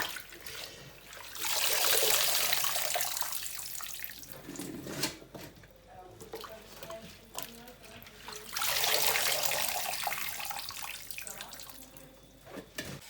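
Running water gushing into a basin as food is washed for a second rinse while preparing Haitian lalo, two loud bursts of flow with splashing and handling in between and a voice talking briefly.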